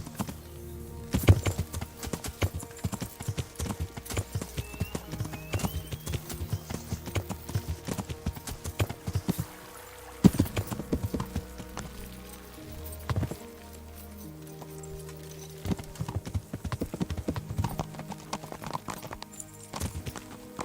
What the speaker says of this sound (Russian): А это лошадь.